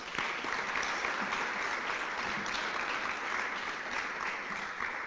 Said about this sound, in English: How about a big round of applause for Alex?